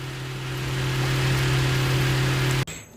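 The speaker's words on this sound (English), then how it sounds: "now I have the recycling truck driving by" A recycling truck drives past outside a garage, its steady mid-pitched engine drone loud and constant before cutting off abruptly near the end.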